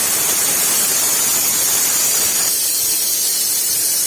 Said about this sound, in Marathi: हे सर्व जिन्नस मी मिक्सरच्या भांड्यात टाकून घेत आहे आणि बारीक एकदम बारीक अशी पेस्ट करून घेत आहे पाणी न टाकता